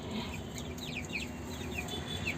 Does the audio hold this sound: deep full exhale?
no